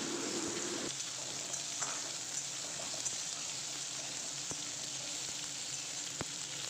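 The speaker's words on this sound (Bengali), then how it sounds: "নুন হলুদ দিয়ে ভালো করে আলুটা একটু ভাজতে থাকবো" Potatoes frying in a pan with salt and turmeric, a steady close sizzle throughout with a few faint clicks of stirring, no voices.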